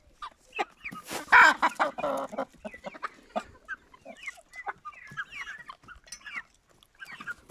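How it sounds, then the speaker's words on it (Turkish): Indian breed rooster and hens clucking close by, with a loud burst of calls early on followed by scattered short clucks and softer chatter from the flock. "Çok boylu bir horoz olacak."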